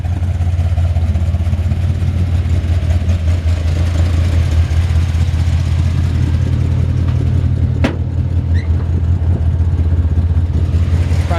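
A cold 1967 Chevrolet C10 engine idles steadily through its exhaust, a deep continuous rumble held close and loud for the whole stretch, with no talking.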